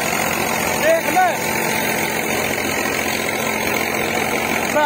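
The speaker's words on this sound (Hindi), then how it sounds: "45 HP का ट्रैक्टर देख भाई" A 45 HP tractor working with a rotavator in farm soil runs with a steady, close diesel drone and a faint knocking rhythm, while people talk over it.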